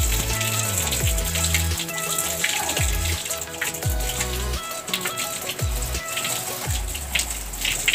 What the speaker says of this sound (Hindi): यहाँ पे है धारा, तो गुंजन और चाची को प्यास लगी है तो यहाँ पे पानी पी रहे हैं